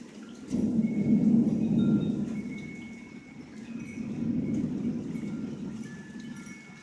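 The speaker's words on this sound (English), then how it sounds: "This is going to be an insane thunderstorm." Deep rolling thunder rumbles loud and close through a severe thunderstorm with heavy rain and wind, swelling twice over several seconds with no voices.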